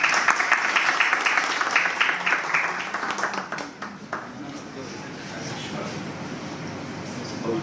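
Audience applause at a tracking company's first anniversary event in Faisalabad greets a speaker, a dense burst of clapping that fades after about four seconds into quieter room murmur.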